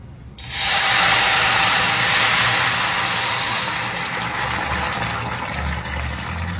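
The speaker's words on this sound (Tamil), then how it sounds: "இப்போ இந்த ஸ்டவ்வை நிறுத்திட்டு தண்ணி கொஞ்சோண்டு ஊற்றிக்கலாம்." Water is poured into a hot pan just after the stove is turned off while cooking biriyani: a sudden loud steaming hiss and sizzle bursts in, then holds and slowly eases.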